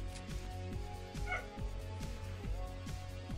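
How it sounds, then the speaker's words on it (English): Barking from a dog in the video game The Walking Vegetables, a run of short repeated yips about every half second, set under a steady game music and ambience bed. "There's a dog going crazy out there"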